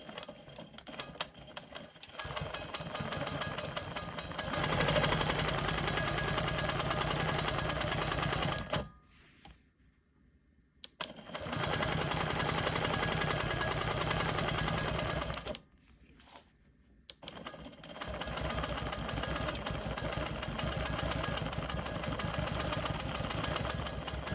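A sewing machine runs steadily while quilting sashing. It hums through three long stitching runs, each several seconds, with short quiet pauses between them.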